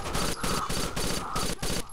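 Sniper rifle fire in Rainbow Six Vegas 2 crackles as a rapid run of sharp shots in repeated bursts, loud and close, with no one speaking over it.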